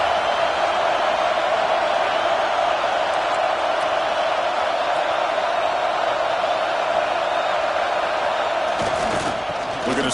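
Dense, steady crowd roar fills a stadium during a college football video game (NCAA 26), holding loud and constant throughout with no clear breaks.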